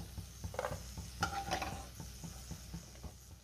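Whole cashews fry in hot oil in a home kitchen while being stirred, giving a steady soft sizzle with light scraping and stirring clicks throughout, moderately close and without talk.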